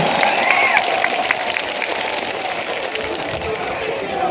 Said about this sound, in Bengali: তাহলে জাভেদের জন্য একটা হাততালি মারেন